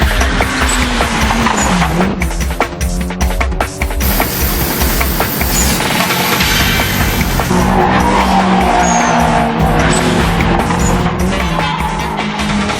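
Race cars, including a Toyota Levin, skid and squeal their tires at racing speed. Engines drone loudly and steadily throughout, with rising and falling squeals that stay close and continuous.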